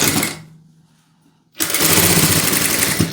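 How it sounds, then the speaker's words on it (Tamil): A sewing machine stitches elastic onto a pair of pants in loud, steady bursts, running briefly, pausing into near silence, then starting again and continuing close by. "இப்போ இதை தைச்சிக்கலாம்."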